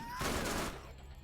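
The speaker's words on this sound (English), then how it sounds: "Double Anarchy is a SMG that fires 4 bullets per trigger pull" The Double Anarchy SMG, which fires four bullets per trigger pull, unleashes a short, rapid burst of gunfire in a video game, loud and close.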